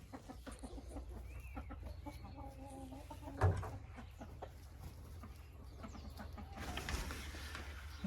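Clucking rooster calls mixed with low background rumble, a sharp thump midway, and a passing vehicle-like noise near the end.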